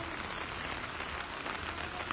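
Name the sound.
rain falling on a morning in Freetown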